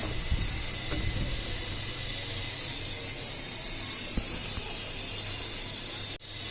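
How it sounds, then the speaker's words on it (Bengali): Mustard oil bubbles in a pan during tempering for Bangladeshi kala bhuna, with fried onions in it, making a constant close hiss. A faint tick comes near the middle and a brief clunk near the end. "সরিষার তেল দিয়ে বাগার দিলে এরকম তেলটা একটু ফুটে ওঠে।"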